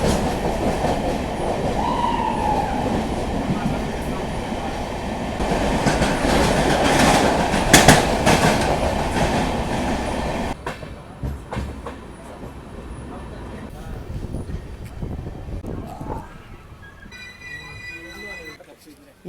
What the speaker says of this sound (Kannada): ಈಗ ಎಂಟ್ರ್ ಆಗೈತೆ ನಮ್ಮ ಟ್ರೈನ ಭಟ್ಕಳಕ್ಕೆ